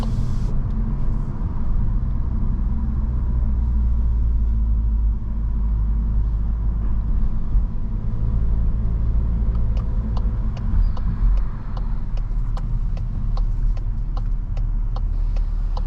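Volkswagen Mk8 Golf GTI engine and exhaust rumbling steadily inside a parking garage, a deep continuous drone with faint ticking pops scattered through the latter half, no talking.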